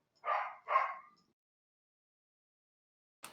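A dog gives two quick, close barks in succession, then falls silent before a third bark cuts in at the very end, each one clear against an otherwise quiet background.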